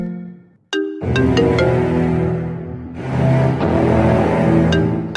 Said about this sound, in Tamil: உன் ஃபோன் தாண்டி அடிக்குது